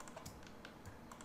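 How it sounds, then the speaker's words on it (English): Keyboard and mouse clicks tap out quickly and faintly in an irregular patter of light, close clicks while selecting items in MODO 3D software. "I'm just control clicking on all of the parent"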